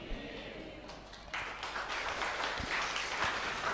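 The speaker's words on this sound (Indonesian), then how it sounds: "Kenapa tepuk tangan?" Audience applause during a talk, a dense patter of clapping that swells after the first second and holds steady, filling the room moderately loud with no clear speech over it.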